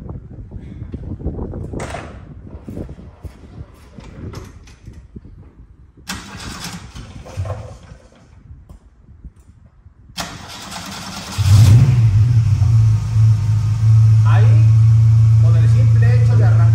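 A vehicle engine being run during a diesel transmission flush first sits silent while someone talks, then cranks and catches, settling into a loud, steady idle that runs close and continuous to the end.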